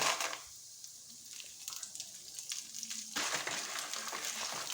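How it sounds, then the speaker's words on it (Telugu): Red chillies frying in a pan, a soft crackling sizzle that dips quieter in the middle then swells back up, with scattered light stirring clicks, close but fairly faint and without speech. "ఇది బాగా వేగాలి మాడిపోకుండా నీట్గా వేసుకోండి"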